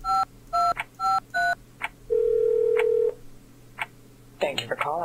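A phone number is keyed in within a video game, giving a run of clear DTMF beeps, one for each digit, then a long steady tone before a short ring and a voice at the end.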